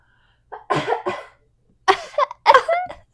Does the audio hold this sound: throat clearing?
yes